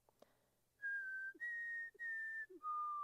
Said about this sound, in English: the young man, their guide, simply whistles